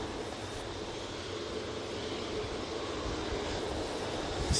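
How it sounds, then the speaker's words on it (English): An Aer Lingus airliner passes over Manchester Airport, making a steady, broad roar of jet engines with a windy rush that holds level for a few seconds and has no voices over it. "Aer Lingus crossing over."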